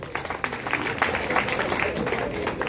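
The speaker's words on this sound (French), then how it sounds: "Nous pouvons les applaudir." Audience applause at a school investiture ceremony in Goma, a steady patter of many hands clapping at moderate loudness throughout, with faint voices underneath.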